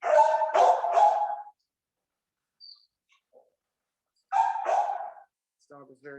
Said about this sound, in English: This dog was very excited. Oh my goodness. Okay, let's see. Very excited dog. I'm sure you guys heard that.